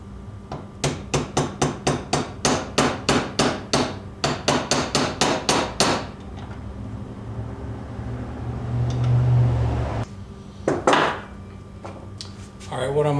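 A steel hammer pounds on the steel front sight and bayonet lug of an M1 Carbine in quick, evenly spaced metallic strikes, two long runs of sharp blows separated by a short pause, followed by a few scattered hits.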